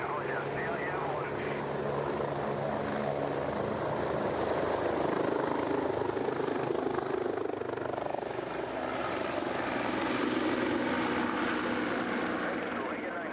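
A helicopter in the flight game Age Of Aerospace drones on at a steady loud level, its rotor and engine whine continuous throughout, with radio-style voices talking over it.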